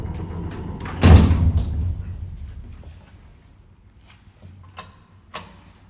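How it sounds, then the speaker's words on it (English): Original folding inner doors of an old Končar elevator in Zagreb, Croatia, shutting with a sharp heavy clatter, followed by quieter mechanical clicks and knocks as the car settles. "They have original folding inner doors, original engines and everything."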